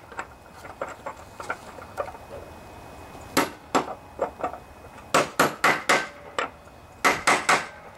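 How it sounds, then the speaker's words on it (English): Hammer tapping a deck bearing into a John Deere LA145 riding mower deck: a steady run of light, sharp knocks that grow louder and more clustered toward the end, close by with no talking. "Tap it in if it needs it. You don't want to hit on it too hard."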